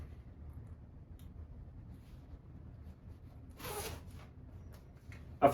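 A Freewheelers aviator vest is zipped up. The zipper gives one brief rasping pull over a quiet room background, followed by a soft thump of handling.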